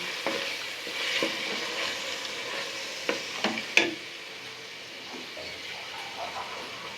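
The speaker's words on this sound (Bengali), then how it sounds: "আমি এখন একসাথে এগুলি মশলা কষিয়ে নেব" Ground nut, cumin and ginger pastes with coriander powder fry together in a pan, a continuous soft sizzle broken by a few sharp clinks and scrapes of stirring, no one talking.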